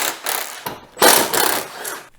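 A ratchet wrench loosening T40 Torx bolts on the bumper of a RAM TRX pickup gives off quick bursts of close, loud ratcheting clicks, three or four runs in a row with short pauses between them.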